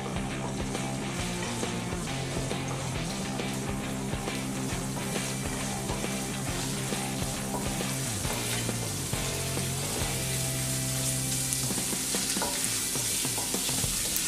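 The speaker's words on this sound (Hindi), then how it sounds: "ये 1 टीस्पून जिंजर है, इसे हम थोड़ा सा पहले फ्राई करके लेंगे।" Ginger fries in a pan for veg Manchurian, a continuous close sizzle with dense crackling and some clinking of a utensil throughout, no talking.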